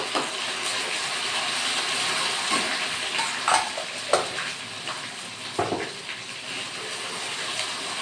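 Cumin, garlic and ginger paste sizzles steadily in a hot pan for several seconds, a continuous frying hiss broken by a few brief stirring scrapes, close and moderately loud with no talking.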